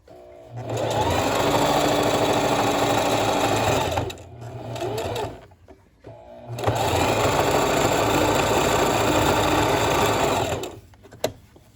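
A sewing machine back-stitching over the same line of stitches, two long loud bursts of rapid mechanical chattering separated by a short quieter pause, close and alone.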